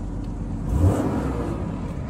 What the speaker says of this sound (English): can hear the engine running.